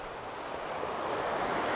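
Surf washes onto a gravel beach at Akiba Coast as a steady, broad rushing wash that slowly swells, with light wind noise and no voices.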